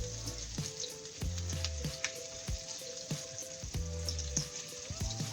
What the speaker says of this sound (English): I want to turn it down now to about a 4, so that we get a nice slow saute